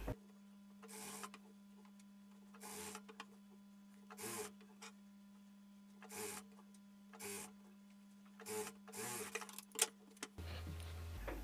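A sewing machine stitches a piping strip onto a garment sleeve in short bursts of mechanical whirring separated by pauses, close up and fairly quiet, with a steady hum underneath.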